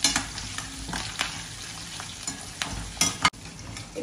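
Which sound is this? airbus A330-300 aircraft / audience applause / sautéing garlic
sautéing garlic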